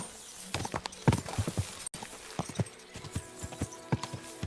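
Horse hooves clip-clop at a walking pace in Kingdom Come Deliverance 2, a steady series of irregular, moderately close thuds with a faint background bed and no voices.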